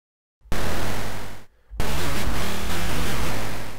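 Two loud bursts of harsh, noisy FM synthesizer tone built in Pure Data, modulation randomized on each note, with a short gap between them, gritty and buzzing with a shifting texture.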